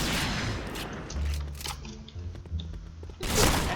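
Pistol gunfire in the video game Point Blank, a few sharp separate shots spread across a few seconds, with game sounds and impacts between them.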